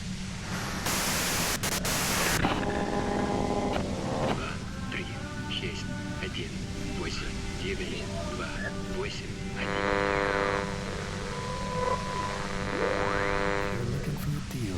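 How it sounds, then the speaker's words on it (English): Bursts of hissing static from the Disco Elysium video game crackle loudly near the start, then settle under droning tonal music, chiming notes and faint murmured voices. "If you've got something really important to say, you can do it through the white noise."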